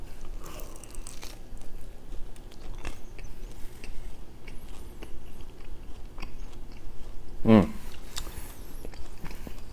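Chewy Got2Go pizza crust is bitten and chewed close to the microphone, with soft, wet chewing and crunching and one louder bite near the end.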